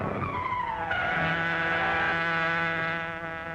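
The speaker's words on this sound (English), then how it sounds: "That's the car we're looking for." A car skids and speeds in an old radio drama chase, with tires squealing in a long wavering screech over a loud engine roar that swells and then eases off near the end.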